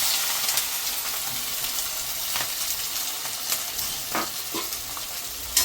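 Onions frying in hot oil in a pan, a continuous close sizzle and crackle with scattered stirring scrapes and small pops, no voices.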